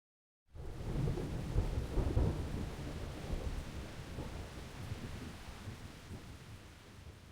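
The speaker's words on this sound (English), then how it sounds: "That sounded like thunder." Thunder at sea starts abruptly after a brief silence and swells into a long, deep rolling rumble. It is mixed with rain and slowly fades, and there are no voices.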